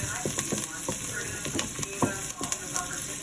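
Butter sizzles and fries steadily in a pan for meatball kale soup, a close, continuous crackle with intermittent clicks and scrapes and no talking.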